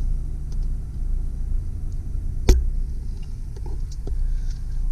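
A 1993 Saab 900S convertible with a 5-speed manual and 75,000 miles idles steadily after start-up, a loud, even low engine rumble with a single sharp click partway through.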